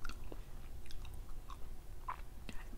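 Someone chews frozen, slightly melting durian close to the mic, giving soft, quiet, irregular wet bites and crunches over low background noise.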